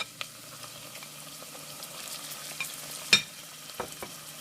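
Roasted red peppers sauté with onions and shallot for a spicy corn chowder, giving a soft, steady sizzle with a few sharp stirring clicks, close but fairly quiet.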